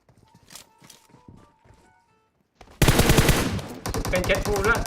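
Rapid automatic gunfire in the mobile game PUBG Mobile bursts in loudly after a quieter stretch of faint game sounds, continuing in fast, dense volleys.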